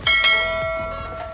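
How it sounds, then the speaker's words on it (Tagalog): A bell chime for a notification, two quick struck tones with a long ringing decay that fades out alone. "don't forget to click the notification"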